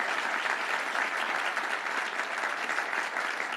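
Sustained crowd applause at a Cook County announcement for PsiQuantum and a quantum park, dense even clapping that holds at a steady moderate level throughout.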